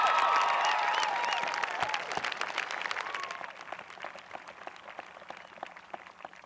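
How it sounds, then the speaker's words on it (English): Audience applause at a 2000 high school graduation ceremony, a broad crowd clapping in a large hall, starting full and gradually thinning to sparse, fading claps. "Just give her a round of applause."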